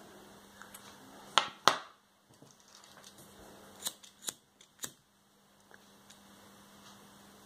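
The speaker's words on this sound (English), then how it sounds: "now you just want to trim off any excess" Scissors snip excess thread from a woven macrame friendship bracelet, giving a handful of short, crisp cuts close by in a quiet room.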